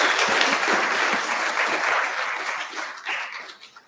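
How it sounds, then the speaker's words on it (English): A round of applause after a performance at a UMBC movement, music and brain health concert, loud at first and then gradually tapering off. "Let's give a round of applause"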